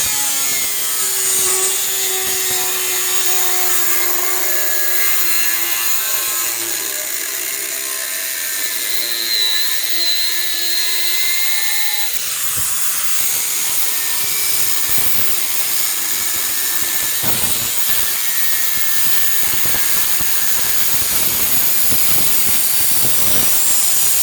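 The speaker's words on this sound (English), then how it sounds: "when you're using air wheel grinders, wear gloves, wear hearing protection, wear eye protection, or preferably a full face shield." An air wheel grinder cuts through rusted Land Rover chassis metal with a continuous loud, high-pitched whine and harsh grinding that runs throughout, turning rougher and scratchier partway through.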